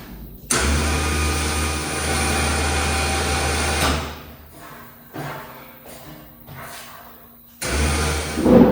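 An electric winch hoists a truck bed for a 1970 GMC C2500 in a garage. It whines steadily in two long pulls, with a few knocks and creaks in the quiet pause between them.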